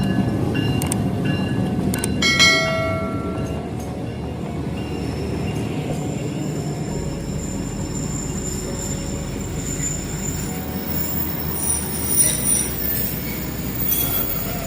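Train wheels squeal and grind on the rails at Landi station in Pakistan, a steady metallic screech with faint clicks of passing railcars throughout, moderately near.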